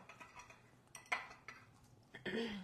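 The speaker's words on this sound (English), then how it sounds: "I'm going to grab a fork so we can stir these just a little bit." A fork stirring ground flax seeds in a dish, producing a few faint clinks and scrapes against the bowl, scattered and brief, ending in a slightly louder cluster of scraping.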